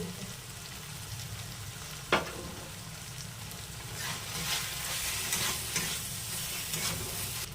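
Red chilli, turmeric and coriander powders fry with ginger and garlic in oil, a steady close sizzle under repeated scraping stirs, one sharp knock early on, growing a little louder toward the end, with no talk.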